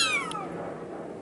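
A Bengal kitten, about four weeks old, gives a single clear meow with a falling pitch, close by and on its own.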